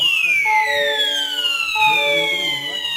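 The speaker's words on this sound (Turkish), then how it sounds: "Alarmımız çalmaya" A Perkotek 12WF wireless home alarm siren wails continuously, its pitch sweeping downward in repeating cycles, harsh and close.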